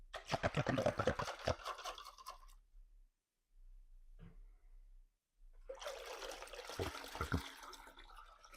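FloraBloom hydroponic nutrient poured into a gallon of water, a close, splashy pour that stops, a brief drip after a pause, then a second stretch of pouring; no talking.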